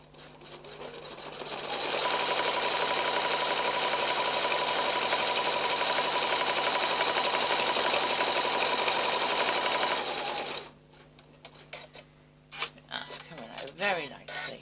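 A sewing machine stitches out a mug rug in a steady, loud, continuous whir that runs about eight seconds before stopping, followed by softer handling sounds and a voice speaking briefly.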